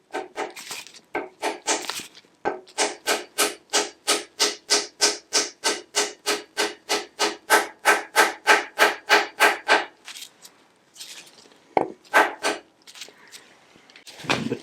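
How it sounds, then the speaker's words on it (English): A sharp wood chisel finishing a chamfer on a wooden piece, a rapid, regular series of about thirty rasping strokes, close and crisp, followed by a few slower, scattered scrapes. "Just finishing off with a nice sharp wood chisel."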